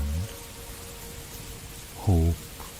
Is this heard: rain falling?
yes